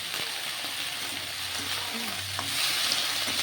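Eggplant pieces fry in hot oil while being stirred, producing a constant loud sizzle with occasional scraping and clinking from the utensil.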